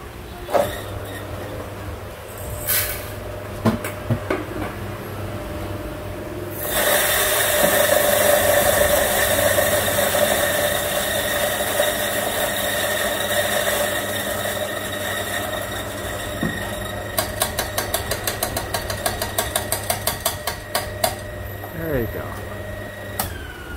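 An electric grinder crushes weasel coffee beans in Hanoi, Vietnam, starting a few seconds in with a loud, steady whir that runs for about ten seconds, then breaks into a series of rapid, rhythmic pulses near the end.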